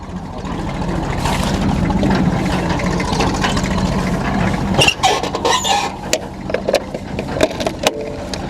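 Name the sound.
tractor engine starting and running with baler machine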